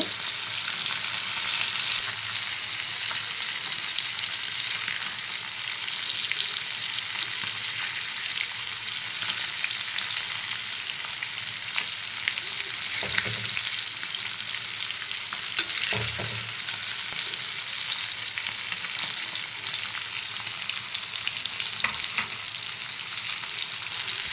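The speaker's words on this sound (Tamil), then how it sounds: "fish நல்லா ஃப்ரை ஆகட்டும் சிம்லே வச்சு ஃப்ரை பண்ணுங்க" Fish fries in a pan on a low flame, a constant, loud, even sizzle and crackle that lasts throughout, with a few soft clicks and no voices.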